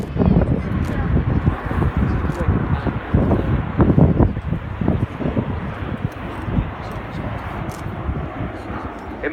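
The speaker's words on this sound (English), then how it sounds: "It may be a big beast of an aeroplane, this 4-turboprop airlifter, but it's one that shows a real turn of pace and agility in its display" An Airbus A400M Atlas four-turboprop military airlifter flying a display at an air show, its engine roar and wind noise rising and fading beneath a commentator's continuous talk.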